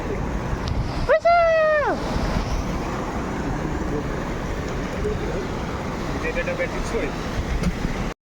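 Sea waves at Uran beach wash in with a steady, broad surf roar that runs through the whole stretch. Wind buffets the microphone, and a brief rising-and-falling tonal sweep cuts in near the start.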